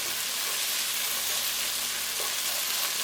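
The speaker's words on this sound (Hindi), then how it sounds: "अदरक लहसुन को अच्छी तरह से फ्राई करेंगे।" Steady, loud sizzling of ginger and garlic frying in hot oil in a pan, a continuous crackling hiss with no voices.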